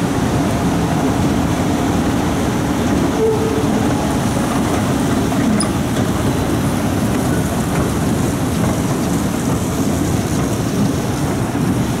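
A continuous rumbling roar of a metro train departing an underground station, loud and close, with steady rattling and a faint high squeal partway through.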